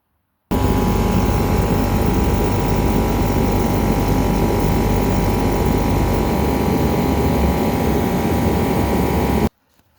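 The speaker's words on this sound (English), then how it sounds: "my workshop here is heated with a diesel space heater" A Hyundai diesel space heater runs in a workshop with a loud, constant roaring hum that starts abruptly, holds steady for about nine seconds, then cuts off, with no voices.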